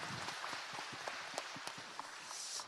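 Scattered applause from a young audience at a talk show, faint and somewhat distant, with individual claps standing out as separate sharp taps over a soft hiss.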